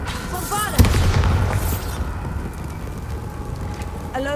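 A Bombarda spell explodes in a Harry Potter video game at Rookwood Castle: one sharp, loud boom followed by a rumbling, crackling tail of debris and fading whooshes.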